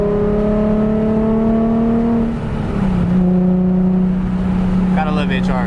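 Car fitted with a Tomei aftermarket exhaust drives with a steady, droning engine note that holds its pitch, dips briefly as it shifts, then settles again, heard up close from inside the car with some road noise.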